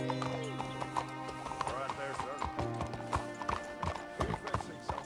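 Horse hooves clip-clop in a Western video game, a rhythmic trotting patter of rapid hoofbeats under voices talking, with tonal music and a brief whinny mixed in.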